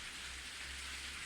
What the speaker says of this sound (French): Peut-être que là-bas il n'y a pas de pluie, mais chez nous oui.